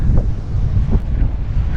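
Wind buffets the microphone in a low, rumbling roar with gusty swells, loud and close throughout, in an open field at Cadillac Ranch beside Interstate 40 in Amarillo, Texas.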